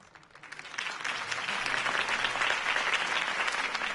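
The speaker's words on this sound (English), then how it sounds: "If only Mr. Wayne, my campaign's largest backer, could have heard that applause" Crowd applause follows Harvey Dent's campaign speech in Batman: The Telltale Series. Dense clapping swells in the first second, then holds as a steady, moderately loud roar of many hands.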